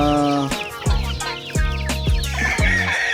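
Gamefowl chicks and chickens on a game farm cluck and peep continuously, with several loud, close calls in a steady, repeated rhythm and no talking.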